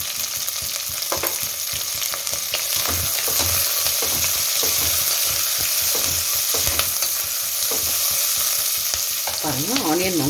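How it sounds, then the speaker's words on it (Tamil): Onions sautéing and being stirred in a hot pan for a Kovai-style brinjal and tomato bajji, a steady close sizzle with repeated scraping stirs throughout and a brief wobbling tone near the end. "பாருங்கள், ஆனியன் நல்லாவே வதங்கியிருக்குது"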